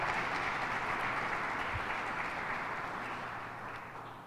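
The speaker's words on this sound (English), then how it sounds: "Can we give the Governor another round of applause for her leadership?" At a press conference, the crowd gives Governor Hochul a round of applause, producing a broad, even wash of clapping from many hands. The applause stays loud at first and then fades gradually, with no voices on top.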